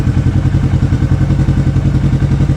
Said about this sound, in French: maintenant je vais démarrer et il s'éteint